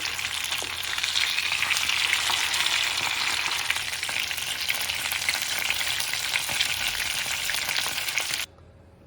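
Fish fries in a pan with a loud, dense, continuous crackling sizzle that holds steady before cutting off abruptly near the end, no one speaking.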